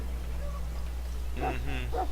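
A Mabari war hound in the video game Dragon Age: Origins lets out a few short, close barks and yips in the second half, over a steady low hum.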